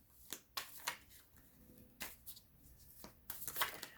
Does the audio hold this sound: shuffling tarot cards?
yes